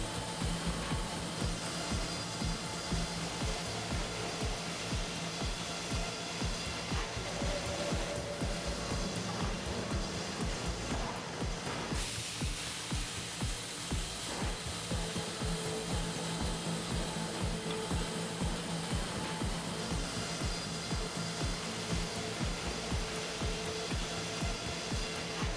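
A sawmill resaw machine cuts logs into smaller planks, producing a continuous, dense mechanical roar with a gritty cutting texture that shifts slightly partway through and stays loud throughout, with no talk.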